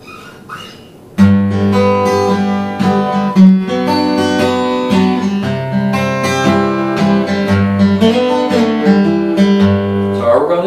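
An acoustic guitar fingerpicks a song in a bass-then-three-two-one pattern with two strums, starting after a second of near silence and ringing on steadily and close.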